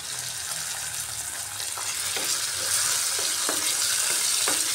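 Onion, garlic and ginger sizzle steadily in a hot pan, with chopped tomato going in; a continuous frying hiss carries throughout with occasional soft clicks of stirring, no talking.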